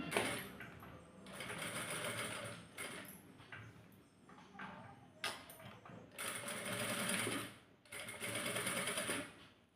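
A sewing machine stitches a collar onto a baby frock in bursts of rapid, buzzing needle runs separated by short pauses, heard close up and fairly quiet.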